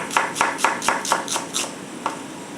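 Onions sliced thin with a knife on a cutting board, about eight sharp, evenly spaced chops in quick succession, close and crisp, with no talking.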